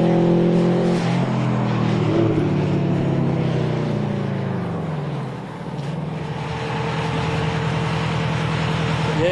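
A Subaru WRX and a front-wheel-drive coupe racing on a track after a rolling start, loud engines droning with shifting pitch as they rev and pass, continuous and near.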